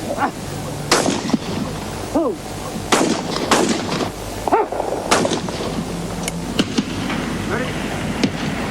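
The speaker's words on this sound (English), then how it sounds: "With Terry Rumble also shooting well for the Australians, the local team took an 8-point margin into the final round" Gunshots crack out at a shooting competition at the 1982 Commonwealth Games, repeated sharp reports at irregular intervals over outdoor background noise, with faint voices in between.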